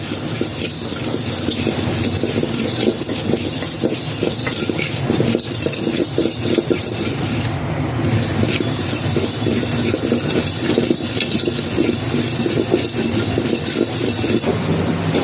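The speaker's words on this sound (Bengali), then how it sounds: "এখন এগুলাকে ভাজা হবে।" Hand-made chutki vermicelli frying in hot oil gives off a loud, continuous broadband sizzle that holds steady for the whole stretch, with no talk over it.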